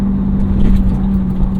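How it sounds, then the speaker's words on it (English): A track-prepped Acura TL Type S engine hums at a steady, low idle-like pitch, close and constant, with no voices. "The engine note at least is nice and forward"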